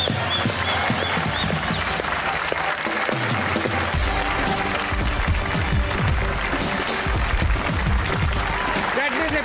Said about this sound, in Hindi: put your hands together for Hina